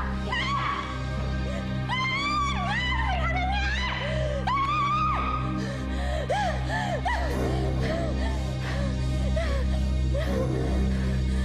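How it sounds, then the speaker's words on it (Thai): Dogs barking and howling in a Thai drama scene, with repeated rising and falling yelps and howls over a steady low background hum. "ได้ยินเสียงหมาเห่าหมาหอนน่ารำคาญ"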